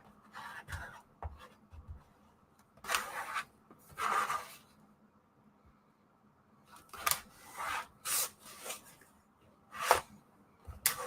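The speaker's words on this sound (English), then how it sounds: "now over the top of that ribbon, we're going to burnish it really well." Dry rubbing and scraping of a burnishing tool pressed over ribbon on a paper craft page, in short irregular bursts with quiet gaps between strokes, close and fairly soft.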